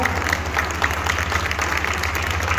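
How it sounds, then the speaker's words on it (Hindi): Audience applause at a Hindi poetry gathering, a national kavi sammelan held in memory of martyrs. Steady clapping runs throughout at moderate level over a low hum, with no voices. "बुलडोजर जैसे एक बार आप लोग तालियां बजाइए"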